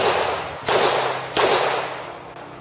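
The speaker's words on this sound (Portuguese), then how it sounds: "ouvimos o som de 3 tiros" Three sharp cracks ring out over a steady hiss: two loud shots close together, then a fainter third after a short pause.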